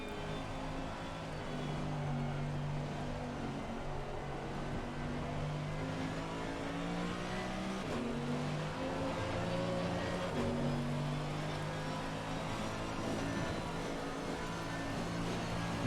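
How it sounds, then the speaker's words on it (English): A heavy AMG car aquaplanes down a flooded straight at Silverstone in heavy rain, with a continuous engine drone and hissing spray from the wet track. The sound is steady and fairly close throughout, with shifting engine pitch and no talk. "you can even hear the aquaplaning as he goes down the straight"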